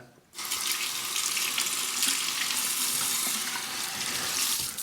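Water from a tap runs steadily into a sink while a safety razor is rinsed, starting abruptly and continuing as a close, even splash.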